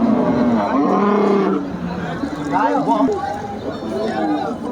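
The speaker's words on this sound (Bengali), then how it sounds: "এখানে মাঝারি সাইজের গরু আছে" Cattle at a rural cattle market where mid-sized bulls are sold for meat, with several drawn-out moos close by over a busy crowd of people talking.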